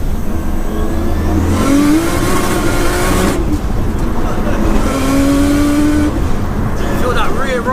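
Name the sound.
Nissan R33 Skyline engine accelerating while driving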